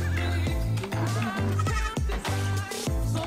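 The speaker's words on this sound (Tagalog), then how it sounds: "Ito yung mga baby kambing niya." Baby goats on a farm in Zambales bleat repeatedly in a quick, rhythmic run of close, loud cries.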